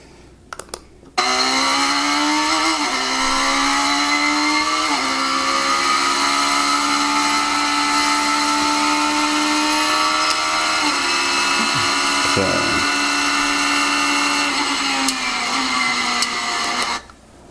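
A Radical SR3 race car engine runs at full throttle on track, a loud continuous high-pitched engine drone with shifting harmonics, close and steady for most of the run with brief pitch dips between gears.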